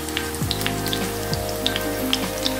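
Green chilies sizzle and crackle in hot oil, a close, steady frying hiss with scattered sharp pops and no voices.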